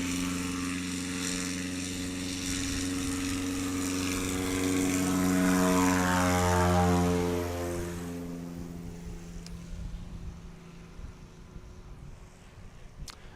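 A Husky propeller airplane on a crosswind takeoff at an airpark during STOL practice, its engine drone rising to a loud peak and then fading away into the distance.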